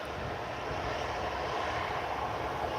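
Two airliners, a TUI Boeing 737-800 and a Jet2 Airbus A321neo, sit holding at Manchester Airport, giving a steady broadband jet engine rumble and idle roar that stays even and continuous throughout, with no talk.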